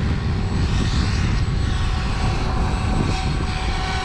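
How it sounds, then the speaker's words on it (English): SAB Kraken 580 RC helicopter after a secondary shaft retrofit, hovering on its maiden flight, giving off a steady, loud, close rotor and motor drone with no talk. "We're just flying the helicopter."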